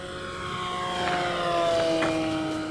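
An E-Flite Commander RC airplane, recently repaired after a crash, makes a full-throttle pass: a steady high electric motor whine with harmonic tones that swells slightly as it passes, continuous and fairly close with no talk.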